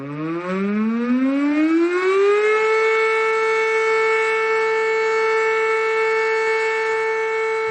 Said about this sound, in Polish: czyli głośny test syren systemu alarmowania o zagrożeniach powietrznych.